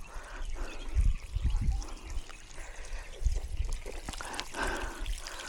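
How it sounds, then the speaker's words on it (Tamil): Water trickles and splashes steadily into a plant pit on a farm, with soft gurgling bursts, close by and moderately loud, no talking. "இந்த மாதிரி இந்த குழி நிறையிற வரைக்கும் தண்ணி விடுறோம்"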